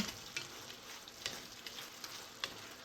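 Vegetables with leaves fry in a pan, a soft continuous sizzle with occasional sharper crackles and pops, faint and close.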